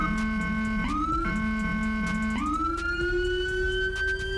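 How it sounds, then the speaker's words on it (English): Police car siren from GTA 5 with the LSPDFR mod, loud and close, a rapid yelping wail that switches into rising long wails as the siren tones are cycled. "And to cycle through the sirens, you will press the B key."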